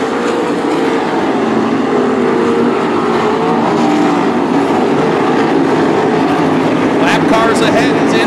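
305 sprint cars race around the dirt oval at Attica Raceway Park in a steady, loud engine roar that never lets up, with a track announcer calling the action over it.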